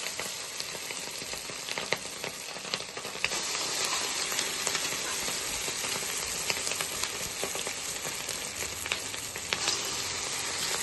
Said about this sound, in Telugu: ఆయిల్ అయితే వేడయింది. ఇప్పుడు మనం బూరెలు వేసుకుందాం.